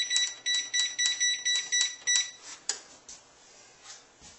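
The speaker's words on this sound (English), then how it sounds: "And timer set for 10 minutes." A digital kitchen timer beeps in a rapid series of short, bright electronic tones as it is set for ten minutes while baking dinner rolls, followed by a few softer single clicks and beeps, fairly close and alone.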